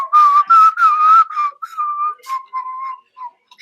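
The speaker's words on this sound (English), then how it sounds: "I'm going to scratch the whistling solo and call this show to a close." A lone person whistling a short solo melody, clear and close, with held notes and quick phrases and no other sounds.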